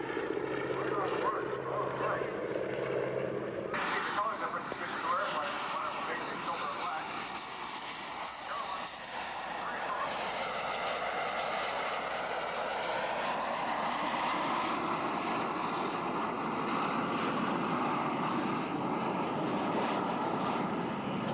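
Aircraft engine roar as a plane passes overhead during a watermelon drop at an air show, a loud sustained drone that builds and shifts in pitch with a whining tone, and voices are heard talking over it.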